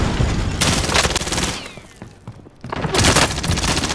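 Video game gunfire crackles in loud rapid bursts of automatic shots, close and sharp, pausing briefly in the middle before another heavy volley, with no voices over it.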